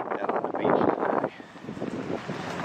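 Chilly wind buffets the microphone on the Myrtle Beach boardwalk, loud rushing gusts that ease off partway through, with faint crowd sounds in the background.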